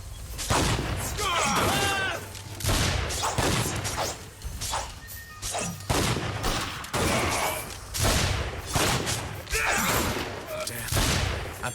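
Dense gunfire and crashing impacts in a Dungeon Siege III battle, with repeated loud bursts throughout, clashing hits and voices shouting under the fighting.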